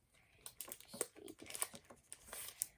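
Plastic packaging on a pack of game cards being peeled open by hand, a quiet run of crinkling, crackling rustles with a few sharper snaps, close and alone.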